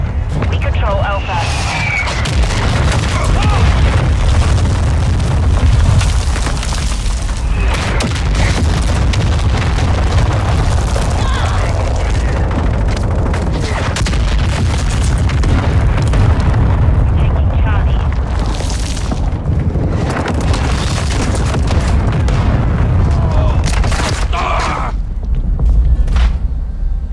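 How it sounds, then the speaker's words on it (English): Mortar strikes crash around the player in Call of Duty: Modern Warfare II multiplayer, a long run of loud, rumbling booms and blasts layered with gunfire, close and continuous, with game radio voices calling out over the battle. "Hostile mortar strike near your position."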